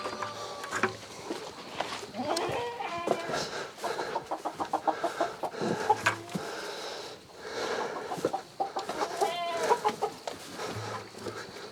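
Chickens cluck and squawk repeatedly on a farm, close and clear in rhythmic bursts of calls, with occasional louder outbursts and no talk over them.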